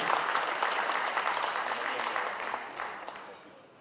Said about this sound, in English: Please give an applause for Mr. Rasyid Baswedan